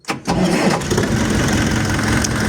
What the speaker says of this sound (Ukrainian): Зараз я запускаю двигун.